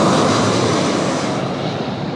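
Loud, steady jet roar of the Qantas Retro Roo airliner departing off runway 16 at Sydney Airport, a dense broadband rumble heard from nearby that holds constant throughout.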